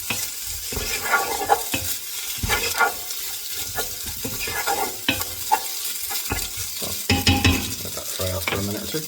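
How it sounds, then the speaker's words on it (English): Cooked chicken stirred and fried with spices in a hot pan, giving a steady sizzle broken by repeated scraping and clattering strokes of the utensil, close and fairly loud, with no talking. "you're just giving it a good beat and just frying it up with the spices"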